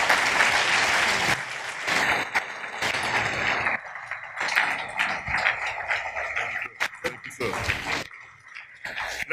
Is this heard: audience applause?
yes